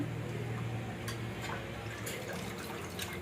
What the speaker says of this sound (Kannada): ಇಷ್ಟು ನೀರು ಜಾನಿಸ್ಕೊಂಡು ಹಾಕೋತೀನಿ ರೀ.